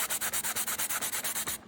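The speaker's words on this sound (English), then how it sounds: "just giving it a little sanding love" Sandpaper rubs a 3D-printed track piece in about a dozen quick, evenly spaced rasping strokes, close and crisp, then stops.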